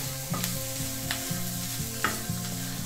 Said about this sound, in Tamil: சேர்த்துட்டு எல்லாத்தையும் நல்லா கிளறி விடுங்க.